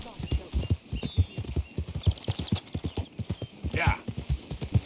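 A horse gallops in Red Dead Redemption 2, rapid rhythmic hoofbeats pounding steadily up close, with a whinny near the end and occasional jingling tack.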